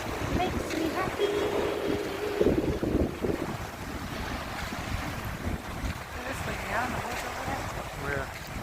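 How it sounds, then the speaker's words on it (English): Wind blowing at the beach, a gusty rumble buffeting the microphone with faint surf beneath, while people talk over it. "Wind is blowing."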